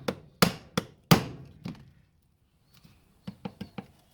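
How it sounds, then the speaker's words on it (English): Sharp thumps from a nylon hammer striking an alternator bearing land in an uneven run of about six blows, then a pause and a lighter cluster of four quicker taps, close and dry. "I'm using a nylon hammer"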